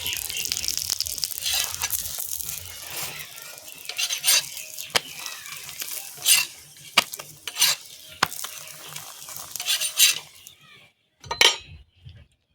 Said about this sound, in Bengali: পরোটাটা ভালো করে ভেজে নেব।